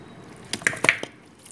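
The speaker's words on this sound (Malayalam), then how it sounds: "നല്ലോണം 2 കൈയും വെച്ച് മിക്സ് ചെയ്ത് വെക്കാം കേട്ടോ" Mutton being mixed by hand with ground spice powders for a stew, a few soft wet squishes and slaps in quick succession, close and quiet, with no talking.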